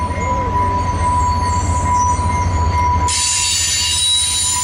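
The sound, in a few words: commuter train wheel flanges squealing on rails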